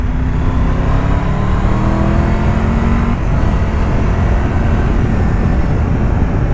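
A Triumph Tiger 1200 GT motorcycle accelerating hard, a loud close engine roar rising steadily in pitch under strong wind rush, with no talking.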